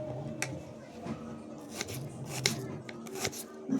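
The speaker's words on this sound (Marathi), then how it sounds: "ऑनियन आपण स्वच्छ धुवून घेतलेला. चला तर मग आपण कट करू." Washed onions being cut with a knife on a board for chicken dum biryani, heard as soft repeated chopping taps and slicing scrapes at close range, fairly quiet throughout.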